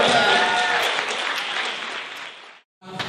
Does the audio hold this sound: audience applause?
yes